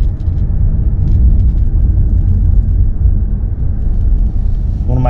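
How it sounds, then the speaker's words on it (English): A 2021 Mazda CX-30 Turbo accelerating, heard from inside the cabin as a loud, steady low engine and road rumble that holds for several seconds. "Now, with this being turbo, the acceleration is effortless."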